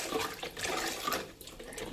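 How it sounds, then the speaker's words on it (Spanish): Hot and cold water stirred together with a spoon in a basin for a home foot bath, giving soft sloshing and running-water sounds, close and moderately quiet. "Le echamos un poquito de agua fría y ya lo mezclamos todo."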